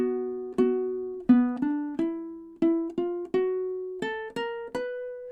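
A riff played slowly on a ukulele: about a dozen clean plucked notes, each ringing and decaying, with the pitch stepping and bending up through the phrase at an even, deliberate pace, with no voice.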